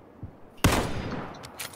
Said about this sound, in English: I'm getting shot from east.